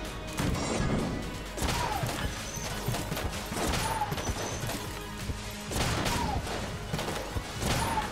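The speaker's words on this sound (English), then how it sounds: "That was an explosion, excuse me." Explosions and gunfire in the video game Enter the Gungeon produce loud, repeated crashing blasts and rapid shots in dense, overlapping bursts.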